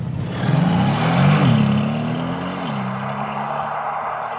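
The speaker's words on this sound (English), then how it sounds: "Deep, rich, low-frequency tones deliver powerful character right from the start-up." A car engine cranks and fires up with a deep, low rumble, swells briefly, then settles into a steady, powerful idle that holds loud and even to the end.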